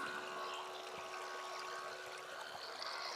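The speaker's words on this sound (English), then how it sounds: "pump the water out till it runs dry" Water runs steadily from the pump of an HOAMC Vibe rechargeable portable outdoor shower, a continuous soft hissing trickle with a faint pump whine underneath, heard close by without talking.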